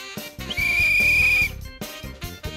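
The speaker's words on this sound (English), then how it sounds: "Am I too loud with the whistle?" One sharp, loud whistle blast lasting about a second during a Minute to Win It chopsticks and cereal pick-up game, heard over music with a strong rhythmic beat.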